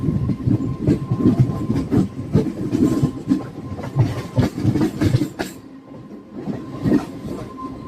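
A MEMU train runs along the rails, its clattering wheels loud and close in a steady rhythmic rumble, with a faint tone held underneath and a short lull near the end before the clatter resumes.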